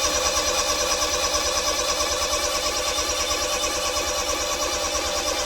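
Starter cranking a Honda Beat engine after a rebuild with fresh oil and filter: a steady, rapid mechanical chug that repeats evenly throughout without catching, heard close up and alone.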